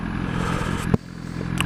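A BMW S1000RR sportbike with a Pro-Race exhaust runs with a steady engine drone, then gives a sharp crackle near the middle, with another brief pop just before the end.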